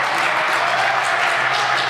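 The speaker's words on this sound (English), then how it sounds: "loud applause for the South African" Sustained crowd applause at a PSA squash semi-final in Namibia, dense and loud clapping that holds at an even level for the whole stretch, with no break.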